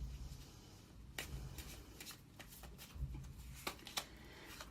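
Tarot cards are shuffled quietly up close, with soft riffles and sharp flicks spread unevenly over a low room hum.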